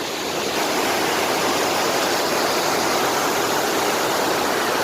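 Clean spring water pours steadily at a viewpoint in Jaglot near Gilgit, a loud, continuous broadband rush like a small waterfall or stream, close and constant with no voices.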